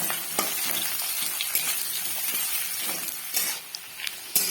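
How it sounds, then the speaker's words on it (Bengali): Onions frying in hot oil with bay leaf in a pan for mutton kosha, a steady close sizzle broken by repeated scrape-and-clink stirring strokes, with no talking. "পেঁয়াজগুলো লাল লাল করে ভেজে নেব"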